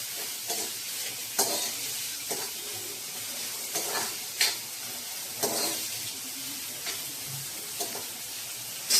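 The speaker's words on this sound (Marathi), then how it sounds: "मसूर आपण छान कांदा परतून घेऊया" Chopped onions sautéing in a pan for a whole masoor (lentil) usal, with a steady soft sizzle and intermittent scraping stirs of a spoon against the pan, close by, no talking.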